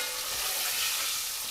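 Eggs frying in a pan give a steady, dense crackling sizzle that stays even and close throughout, with no voices.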